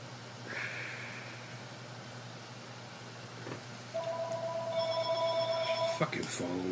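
A telephone rings, first as a brief faint trill and then as steadier, louder electronic ringing tones over a low hum, with people talking nearby.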